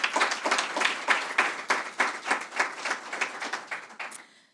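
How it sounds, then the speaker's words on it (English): A small audience at a panel event claps in a sparse, fairly quiet patter of separate hand claps, pulsing unevenly for a few seconds before fading out. "So applause for them."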